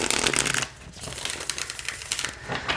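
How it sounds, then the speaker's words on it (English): A close riffle of Nightmare Before Christmas tarot cards being shuffled, a dense rapid flutter that eases off briefly then picks up again. "Okay, let's see how it shuffles."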